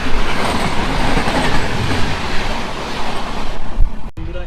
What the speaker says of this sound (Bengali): চলে আসছে ট্রেন নম্বর 123-12 নেতাজি এক্সপ্রেস।